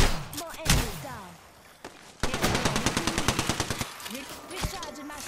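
Rapid automatic gunfire in Apex Legends, a sharp burst early on, then a long close, loud rhythmic string of shots with short gaps, mixed with other game sounds and a voice talking.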